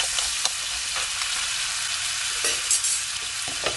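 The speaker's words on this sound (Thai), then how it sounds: "ก็ผัดต่ออีกสักแป๊บนึง" Blue swimming crabs being stir-fried with curry powder in a pan give a continuous bright sizzle, with occasional knocks and scrapes of a spatula, close and steady.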